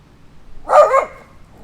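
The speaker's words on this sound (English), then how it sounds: "the dog barked at me" A dog outdoors, passing on a walk with its owner, lets out a single short, loud bark close by, with quiet surroundings before and after.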